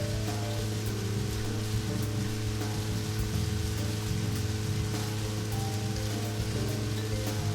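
Rain falls steadily in the video game Deadly Premonition, a constant dense hiss layered over a low droning hum and tonal game sounds that run unbroken.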